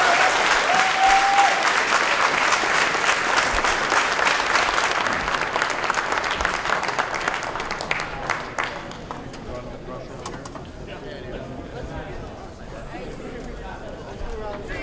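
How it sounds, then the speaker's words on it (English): A crowd of supporters at a Rand Paul campaign visit in Minnesota applauds loudly, a dense roar of clapping that tapers off gradually into scattered claps and background murmur. "One more round of applause for next President of the United States"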